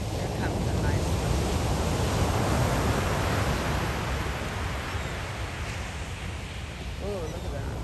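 Ocean waves break on the beach at MacKerricker State Park near Fort Bragg, California, a continuous loud wash of surf roaring steadily with wind buffeting the microphone.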